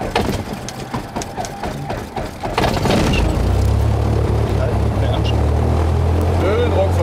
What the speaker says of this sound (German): Propellerbereich frei, Heckbereich frei und starten.